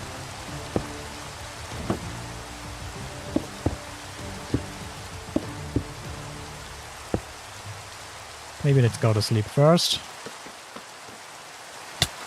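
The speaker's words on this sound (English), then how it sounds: "Then finally the rain will stop at least." Rain falls in Minecraft as a soft, steady hiss beneath scattered game clicks and taps, with a short spoken line near the end and a few louder bursts breaking in.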